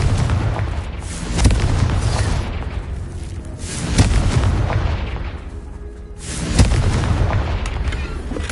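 Confringo fire spell explosions in Hogwarts Legacy, a series of loud booming blasts roughly every few seconds over a dense, rumbling roar.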